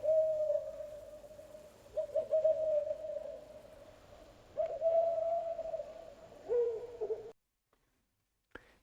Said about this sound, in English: The forest was a dark cathedral with owls calling in the background.